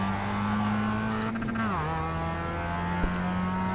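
In a racing video game, a race car engine drones at high revs and then drops in pitch sharply as the driver downshifts. The engine settles to a lower steady tone, loud and close, with a short knock near the end.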